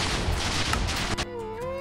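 A loud, roaring explosive burst goes off in a children's castle-defense video game, rumbling for over a second before cutting to a quieter tonal game sound.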